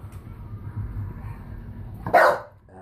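A dog barks once, sharp and close, near the end after a stretch of low rumbling and faint movement noise in an indoor room.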